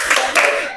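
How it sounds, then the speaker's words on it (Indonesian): Pupils in a classroom do a rhythmic group focus clap, two quick, crisp bursts of many hands clapping close by in under a second. "Tepuk fokus."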